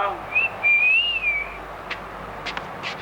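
A person whistles at someone, a rising and falling tonal whistle across the first half, followed by faint background sounds and clicks, with no talk.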